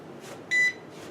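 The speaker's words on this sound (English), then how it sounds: "this will detect if there's any power in these lines" An electrical voltage tester beeping near live wiring in a cellar light fixture: one short, sharp, high tone sounding close and clearly over a faint background hum.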